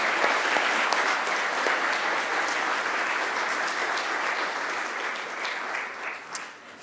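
A graduation ceremony audience applauds academic staff in a large hall, sustained and fairly even clapping from many hands, moderately distant, slowly thinning toward the end.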